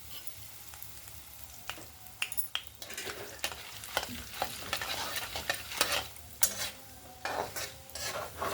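Curry leaves crackle and sizzle in hot oil during tempering for a Telangana-style bitter gourd (kakarakaya) fry, a steady close hiss broken by sharp pops and scraping stirs, with no voices.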